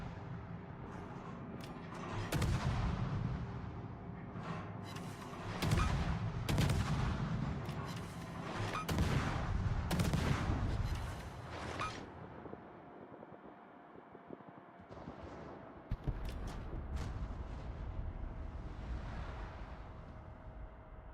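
Warship guns firing in World of Warships, a series of heavy booming salvos spaced every second or two over a steady roar of wind and sea, loud and close, with quieter reports later.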